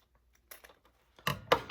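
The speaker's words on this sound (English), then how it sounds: "I'm going to cut the top off with a pair of scissors" A few short, crisp scissor snips and rustles cutting the top off a tea bag, close by, starting softly and growing louder toward the end, with no talking.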